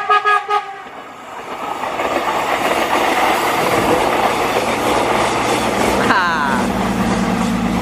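A crowded Prameks commuter train rushes past close by on a sharp curve at Kalimenur, Kulon Progo, with loud rumbling and clattering wheels, a horn sounding briefly at the start and a sustained tone near the end.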